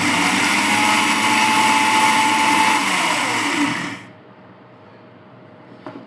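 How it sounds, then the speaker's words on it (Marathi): A kitchen mixer grinder whirs loudly and steadily for about four seconds, then cuts off and winds down, leaving near silence with a faint click at the end. "आता मी मस्त मिक्सरमध्ये ना बारीक करून घेते."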